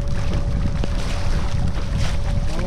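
Small electric motor running on a fishing kayak out on the water, a steady continuous drone with a faint tonal whine, water and wind noise around it throughout.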